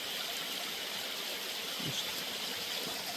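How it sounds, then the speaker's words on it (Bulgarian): The Marf waterfall in Bulgaria gives off a steady, dense rush of flowing water, constant and broadband from start to end, close and even, with no voices. "Искам да ви покажа и течението така на водопада."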